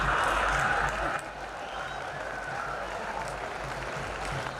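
Audience applause at a Hindi comedy poetry show (hasya kavi sammelan), a dense steady wash of clapping from a large crowd, loudest at the start then settling to a sustained roar with no talking.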